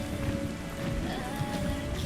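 Steady rain from a summer shower in a video game, a constant dense hiss with low patter filling the whole stretch at even loudness, with no voices.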